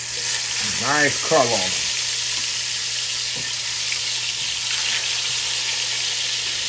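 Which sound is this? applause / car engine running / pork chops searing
pork chops searing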